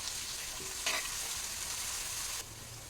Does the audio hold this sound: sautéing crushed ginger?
yes